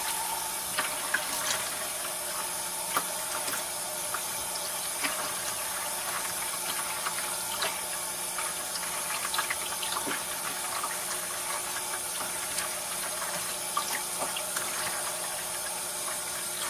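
Hot water from a bathroom tap pours steadily into a sink, a continuous close hiss and splash running unbroken with no talk.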